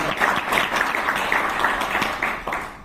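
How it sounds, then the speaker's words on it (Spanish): A live podcast audience at an end-of-season show applauds steadily with dense, continuous clapping at moderate distance and a faint murmur of voices underneath, tapering slightly at the end. "sí, os merecéis un aplauso como público."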